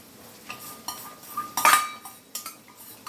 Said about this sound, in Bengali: এই বেরেস্তাটা দিয়ে বেশ করে নেড়ে দেবেন